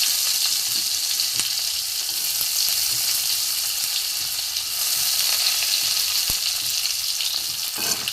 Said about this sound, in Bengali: এবার আমি একটু সর্ষে তেল দিয়ে দিয়েছি, এতে আমি একটু পেঁয়াজ কুচি দিয়ে দেবো।